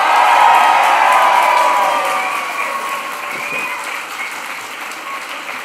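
Graduation ceremony audience bursting into loud applause with cheers and whoops for the class of 2025, a dense roar of clapping from a large crowd that peaks early and gradually tapers off, no speech over it.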